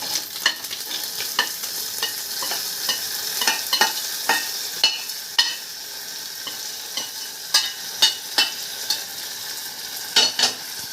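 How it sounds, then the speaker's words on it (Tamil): Hot tempering of spices and asafoetida poured into lemon juice for lemon rice, crackling and sizzling with repeated sharp stirring scrapes at close range, no voices. "இப்போ நம்ம இந்த இதை எடுத்து இந்த ஜூஸில் இந்த தாளித்ததை எடுத்து"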